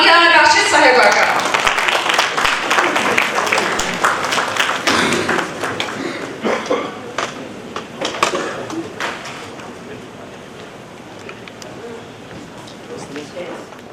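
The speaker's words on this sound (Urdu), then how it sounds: "آپ کی بھرپور تالیوں میں میں استقبال کرتی ہوں" An audience at a formal event in Islamabad applauds to welcome a speaker, with dense clapping that starts loud and gradually thins and fades over several seconds, with a few scattered claps lingering.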